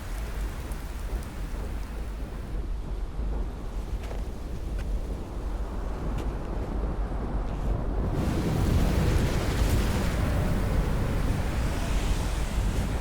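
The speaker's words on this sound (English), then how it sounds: "it's kind of blustery and windy." Strong, blustery wind on a snowy hillside roars and buffets steadily with a deep rumbling blast that swells louder partway through, no voices.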